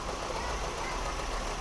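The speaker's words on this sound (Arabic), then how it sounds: "الموتور بقيت يترعد" A 1.6 petrol 16-valve car engine runs rough at idle, a close, steady mechanical rumble with an uneven shaking texture and no talk over it.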